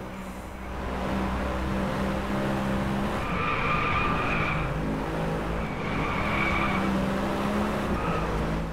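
A car drifts through a corner in the Driveclub racing game, its tires squealing and skidding in long sustained wails over a steady engine drone, loud and continuous.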